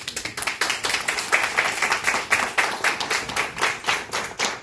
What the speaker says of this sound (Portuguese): eu queria pedir uma salva de palmas para vocês